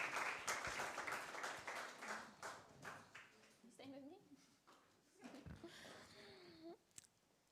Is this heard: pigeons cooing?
no